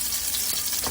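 Salmon fish cakes fry in a pan with a dense, steady sizzle and crackle, close and constant over a brief moment, with no talk.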